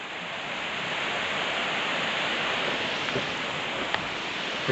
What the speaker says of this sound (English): Along this little beck called Mill Beck.